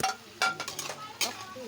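A utensil stirs pork and tofu in a pan while they are sautéed in oyster sauce: a few sharp scraping, clinking strokes with a faint sizzle between them.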